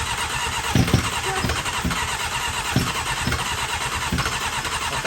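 A Honda CBR motorcycle engine cranks and tries to start on only one cylinder, giving a steady noisy churn with irregular uneven pops and stutters throughout, close and alone with no voices.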